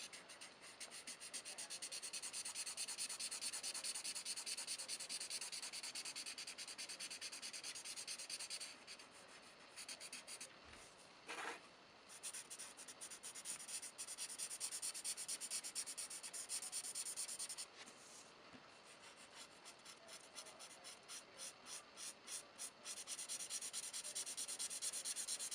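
Pan pastels rubbed and blended on paper, a faint, steady dry scrubbing that runs almost continuously with a few brief pauses and short strokes, close by and without talk.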